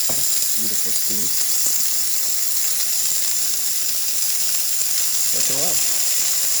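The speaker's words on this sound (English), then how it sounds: "Beautiful steam." A steady hiss of steam sizzles throughout as a Jura Ena 8 coffee machine's steam wand steams milk, with brief voices speaking faintly at the start and end.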